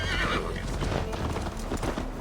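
Horse hooves clip-clopping at a fast gallop along with a loud neighing whinny early on, steady and close, in the video game Assassin's Creed Valhalla.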